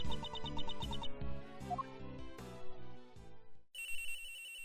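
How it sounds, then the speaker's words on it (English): A phone rings in Ace Attorney Investigations 2, a repeating electronic melodic ringtone playing alone at moderate volume, pausing briefly before starting again. "Oh, phone call?"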